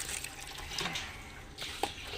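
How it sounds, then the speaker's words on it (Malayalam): Water being filled into a pot outdoors, a soft continuous splashing gush with a brief drip, fairly faint and close, no voices. "എന്നിട്ട് പോണിയിൽ വെള്ളം നിറയ്ക്കുന്നു."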